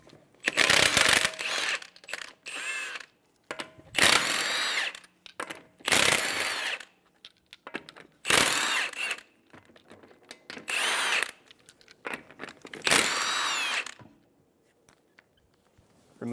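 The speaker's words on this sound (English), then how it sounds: "Using a 21mm socket, remove the lug nuts." A power tool with a 21mm socket removes the lug nuts from a 2007-2011 Toyota Camry wheel, sounding as a series of loud, close rattling impact bursts separated by short pauses.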